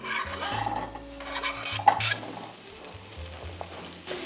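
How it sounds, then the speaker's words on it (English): Potatoes sautéing in hot olive oil in a pan for a ground beef recipe, a steady close sizzle with scraping, stirring rasps and a sharp clink near the middle. "we're just letting these potatoes saute for a couple of minutes"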